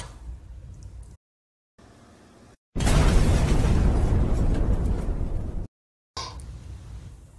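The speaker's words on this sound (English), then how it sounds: "I just heard the explosion." A cartoon tablet app self-destructs in a loud, broad explosion that roars for about three seconds, then cuts off abruptly; quieter background sound comes before and after it.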